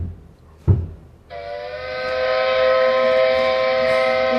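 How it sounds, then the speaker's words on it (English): A boat's new whistle sounds in the captain's wheelhouse during a test. A brief thump comes first, then a loud, sustained, tonal blast rich in harmonics that holds steady for about three seconds. "you have to test the whistle"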